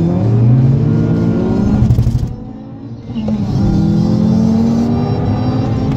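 A VW Golf 5 GTI and a Toyota Run X RSI race, close engines revving hard and climbing through gears, a brief dip as they shift, then accelerating loudly again.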